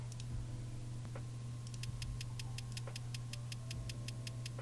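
A programmed hi-hat pattern in a hyperpop beat: crisp, evenly spaced ticks repeating rapidly, running alone over a steady low hum with no voices.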